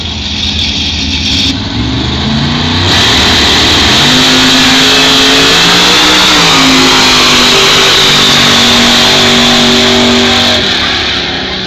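A drag racing car accelerates down the strip on a pass of about 114 mph. Its engine roars loud and close, climbing in pitch through repeated surges as it gathers speed.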